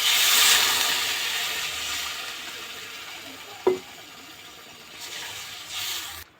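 Water goes into a hot pan of spiced rohu fish curry with turmeric, raising a loud hiss that slowly fades, broken by one sharp clink midway and a short burst of renewed sizzling near the end.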